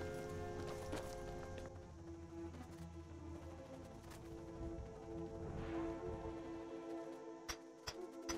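Horse hooves in the video game Skyrim, a soft clip-clop rhythm of a horse drawing nearer, mixed in with steady game music and ambience.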